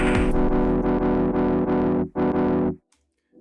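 Drum sample A from Wave Alchemy Triaz plays as a loud, heavily processed and distorted hit, sustained for about two and a half seconds with one short break, then cut off into silence.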